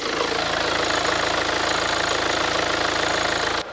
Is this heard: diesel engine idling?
yes